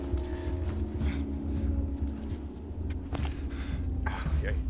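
In The Last of Us, horse hooves clip-clop at a walking pace beneath a low droning game ambience, moderately loud and fairly close, with some voices audible at moments.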